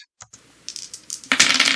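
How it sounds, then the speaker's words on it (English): Dice tumbling and clattering for a batter's roll in a computer baseball simulation game replaying the 1968 World Series Game 7: a few light clicks, then a louder rattling burst of rolling dice close up, with no talk. "the batter needs to roll the dice, so I will go ahead and do that"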